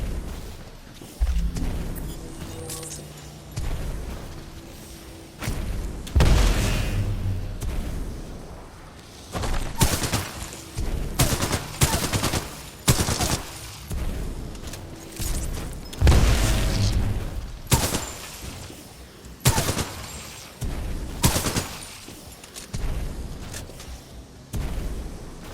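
Assault pistol fire in the shooter Titanfall 2: repeated loud, punchy shots and booming bursts spread across the whole stretch, with brief lulls between volleys and heavy low-end thumps from the game action.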